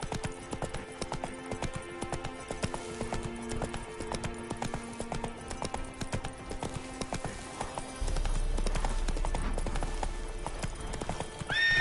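Hooves of Roach, the horse in The Witcher 3 video game, clip-clop in a steady rhythm over a backdrop of game music, with a brief whinny; a deeper rumble joins partway through.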